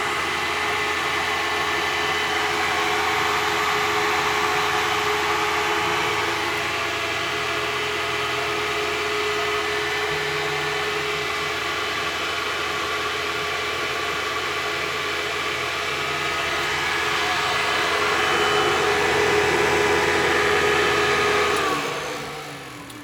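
Early 12-volt Eberspacher BN4 gasoline heater from a Bay Window VW Bus running in cool-down mode after fuel cutoff, a steady close blower whir with broadband hiss that holds for about twenty seconds, then winds down near the end.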